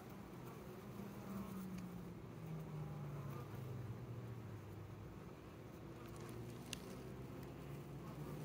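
Honeybees buzz around a log hive in an apiary, a soft continuous drone with a faintly wavering pitch, distant and steady throughout.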